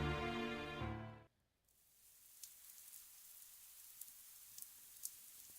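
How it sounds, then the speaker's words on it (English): Rain falling in the Fate/Stay Night visual novel: a short burst of music fades out, leaving a soft, steady hiss of rain with occasional faint drops. "Falling rain."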